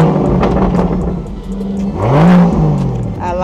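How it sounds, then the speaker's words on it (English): Rolls-Royce Cullinan fitted with a Mansory turbo kit, its engine idling and then revved, rising to a loud, rising whine before settling back toward idle. Voices murmur faintly beneath the engine. "Can you crank it up and press the gas for me a little bit?"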